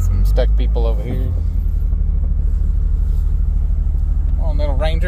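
Ford Ranger truck engine at sand drags on the Canadian River, a steady loud low rumble running throughout with people talking over it near the start and end.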